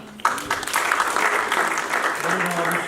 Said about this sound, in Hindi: तालियां भी चाहिए भरपूर